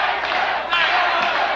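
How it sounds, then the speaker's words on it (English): A crowd at a 1980 kickboxing bout chants a fighter's name, a loud, dense roar of many voices under a commentator's talk. "Crowd again chanting, Jackson,"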